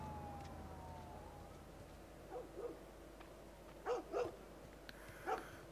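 A dog barks in short pairs in the video game The Last of Us, faint and somewhat distant, while a siren fades out early on.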